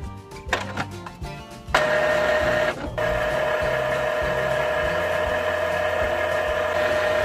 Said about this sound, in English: Turn on the printer.